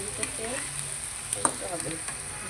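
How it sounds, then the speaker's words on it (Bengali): Chopped onions and garlic fry in oil in a home kitchen, giving a continuous close sizzle with a few sharp crackles and light stirring clicks, while a voice murmurs faintly underneath. "এই যে হয়ে যেতেছে পেঁয়াজ ভাজা, আর একটু হবে, আর রসুন একটু হয়ে যেতেছে,"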